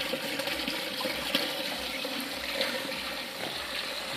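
Water rushes steadily and continuously into a water-pulse-operated mineral jig with two riffles and a tapered top during a trial run, a moderately quiet, even wash of flow with no distinct pulses.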